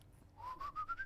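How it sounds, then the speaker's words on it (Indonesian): A person whistles a short rising tone that steps upward in a few pulsed notes, close and clear against a quiet background. "Lu bisa siul nggak sih bro?"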